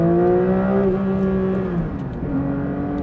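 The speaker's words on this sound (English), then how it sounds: "And that with that lightweight clutch, the revs drop so fast" A 2024 Porsche 911 S/T with a lightweight clutch holds a steady, loud engine drone that sags in pitch as the revs fall quickly between gears, then settles at a lower pitch, with no talk.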